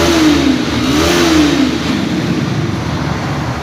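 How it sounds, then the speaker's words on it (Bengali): A Bajaj Pulsar NS160 motorcycle engine revs loudly up close, a steady sporty roar with a rising and falling pitch sweep early on, then holding at a high drone with no talk. "স্পোর্টি একটা সাউন্ড, স্পোর্টস বাইকের যেমন একটা সাউন্ড।"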